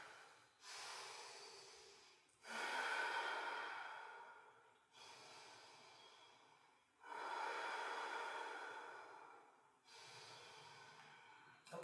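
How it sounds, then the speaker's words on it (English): Slow, deep yoga breathing through a held pose, five long breaths alternating inhale and exhale in an even rhythm, close and breathy with a rushing, hissing texture and short pauses between. "3 or 4 more breaths here"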